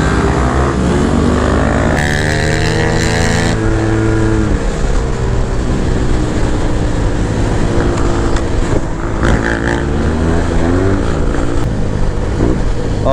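A Yamaha T-Max scooter rolls across a metal mesh bridge during a ferry-to-ferry ride, its engine droning loudly and steadily under constant wind rush, with brief speech mixed in.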